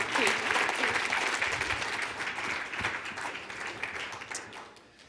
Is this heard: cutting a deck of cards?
no